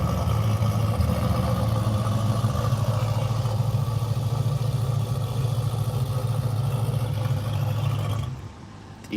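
A fast car idles on a dyno with a loud, steady, rumbling engine drone that holds evenly for several seconds, then drops away near the end, with no talking over it.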